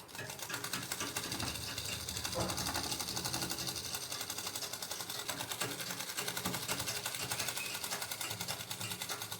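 Sewing machine running steadily, stitching stiff buckram onto salwar cotton fabric; a continuous close mechanical whir and rapid needle clatter that holds throughout without pause.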